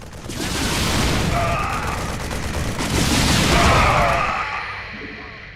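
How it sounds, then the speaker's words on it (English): A StarCraft II Terran Banshee gunship fires a rocket volley in the video game, a loud continuous barrage of explosive bursts that swells and fades over several seconds, with no talk. "It fires a volley of rockets at enemy ground targets."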